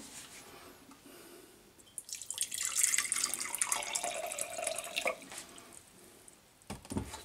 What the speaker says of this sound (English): So what you need to next do is add some cool boiled water